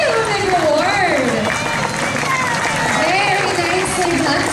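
Audience at Hershey Park applauding and cheering to reward Scooter the sea animal during a show, a dense, sustained roar of clapping mixed with crowd noise and voices over it.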